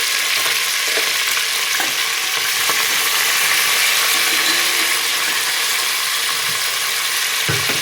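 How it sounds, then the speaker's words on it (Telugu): Curry leaves and fenugreek leaves frying in a pan, giving a steady, close sizzle and crackle that runs unbroken throughout, with faint scraping stirs here and there and no talking. "ఇది మంచిగా వేగనిద్దాం"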